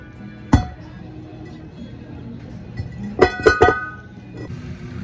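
A stuck drum brake on a Toyota Hiace is hammered loose: one sharp metallic clank, a pause, then a quick cluster of three ringing blows and a fainter final knock, close and loud over a quiet workshop background.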